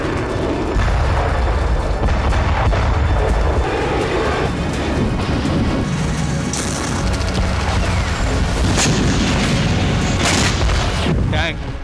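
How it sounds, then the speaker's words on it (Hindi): Battlefield barrage of tank fire and artillery shelling, with booming explosions and aircraft overhead, a continuous loud rumbling roar with repeated heavy blasts under occasional talk. "टैंक धमाके कर रहे।"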